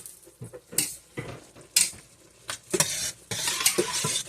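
Anchovies are stirred into tomato sauce in a pan, with scraping and clinking of a spoon against the pan in uneven bursts and a soft sizzle underneath, fairly close.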